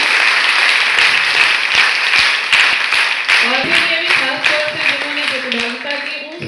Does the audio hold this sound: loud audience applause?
yes